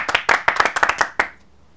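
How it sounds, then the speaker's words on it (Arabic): A small group of young men claps briefly in a room, about a dozen quick, close hand claps over roughly a second before stopping abruptly into silence. "صفقوا له يا عيال"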